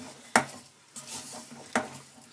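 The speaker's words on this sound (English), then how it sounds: "just going to stir this for probably another minute or so" Melted butter being stirred in a pan for a biscuit cheesecake base, with a few sharp clinks of the spoon against the pan between soft scraping strokes, close and fairly quiet.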